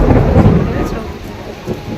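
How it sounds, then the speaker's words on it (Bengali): Steady rain pours down with a low, rolling rumble of thunder underneath, heavy and continuous throughout. "এখানে এখন বৃষ্টি হচ্ছে"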